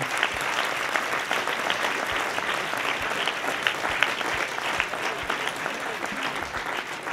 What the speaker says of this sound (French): Vous pouvez l'applaudir, son travail va être difficile